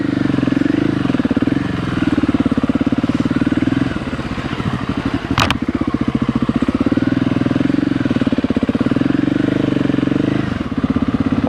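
A motorcycle ridden off-road on dirt, its engine droning loud and steady up close with revs that rise and dip, a brief sharp clatter midway, and faint voices underneath.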